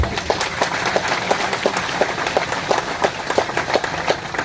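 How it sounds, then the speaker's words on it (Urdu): An audience at a foundation-stone ceremony for a rehabilitation centre for disabled persons in Khura claps for Aqeel Khan and his family, with steady, fairly loud rhythmic clapping throughout. "عقیل خان صاحب اور ان کی فیملی کے لیے بھرپور تالیاں بجائیں"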